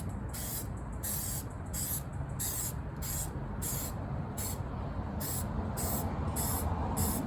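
Rapid bursts of hissing from a spray can laying a rust touch-up coat on a 2006 Jeep Wrangler TJ, about a dozen short sprays in quick rhythm, close and fairly loud over a low background rumble.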